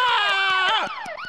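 Police siren wailing loud and close in a Polish street-gang animated cartoon, its rising and falling tone sweeping through about a second and a half before dropping off, with short sharp knocks breaking in.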